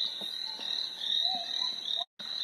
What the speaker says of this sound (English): So this one here is simulating crickets there in the background